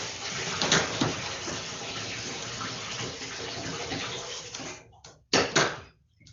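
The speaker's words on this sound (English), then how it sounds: "the running water doesn't contribute to anyone being able to hear me" Water gushing from a tap in a steady, loud stream that fills the clip, breaking off briefly near the end before a short renewed burst.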